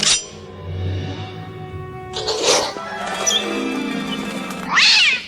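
A cat gives a couple of drawn-out meows and caterwauling cries at close range, with a lower growling wail running beneath the first cry and a sharp yowl near the end, in a cartoon setting.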